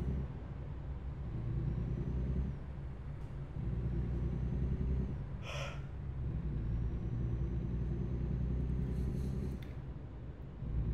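Car driving on the road out of Tucumcari, a steady low engine and road rumble with slight shifts in pitch, plus a brief faint clatter midway and another near the end.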